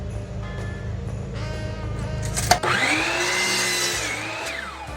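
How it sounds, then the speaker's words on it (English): A power saw, set back to 0 degrees, cuts the end off a wooden board: a motor hum, then a sharp bite as the blade spins up and whines through the wood for about two seconds, then winds down. "Now I'm going to set my saw back to 0 degrees and cut this end off."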